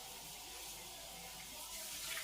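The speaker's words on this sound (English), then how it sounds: "So I'm now rinsing out this saucepan to steam the cabbage." Tap water runs into a saucepan as it is rinsed out in a kitchen before steaming cabbage, a faint, steady hiss of flowing water that swells slightly toward the end.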